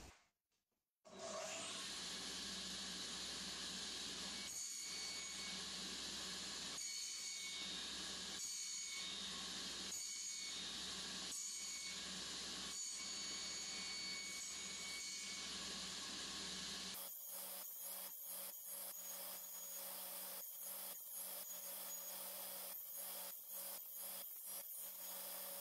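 A saw fitted with a single-blade box joint jig cuts finger joints in wood as a loud, sustained whine and rasp. It is broken by short regular gaps between passes, then turns into a thinner, choppier series of cuts.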